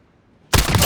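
Burst of RAAL MG light machine gun fire in Call of Duty Modern Warfare, starting abruptly after a quiet lead-in and continuing loud and dense to the end.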